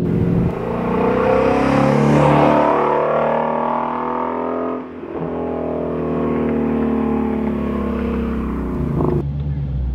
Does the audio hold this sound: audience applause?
no